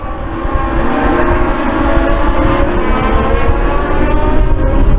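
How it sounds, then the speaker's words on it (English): US Legend race cars race past at New Hampshire Motor Speedway, with a loud, continuous, droning engine roar that holds steady as the pack runs close by. "That was a cluster of race cars."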